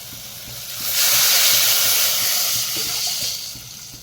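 A pot of Latur-style turmeric curry (rassa) hisses and bubbles with a steady steamy rush that swells, holds, then eases slightly, close by and without talk.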